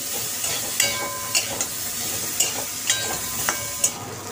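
Ginger is stirred into spices frying in a pan. A steady sizzle runs underneath while a spatula scrapes and knocks against the pan in regular sharp strokes, roughly twice a second. No talking.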